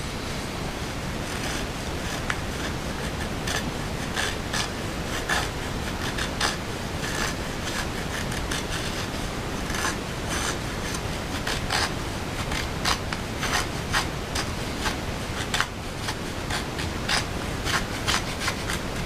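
A Gerber EZ-Out folding knife shaves and cuts into wood in many quick, close scraping strokes, a dense, continuous rasping texture with no voices.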